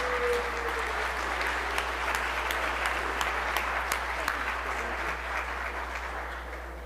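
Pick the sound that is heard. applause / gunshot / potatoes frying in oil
applause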